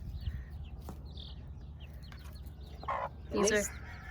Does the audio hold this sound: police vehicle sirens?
no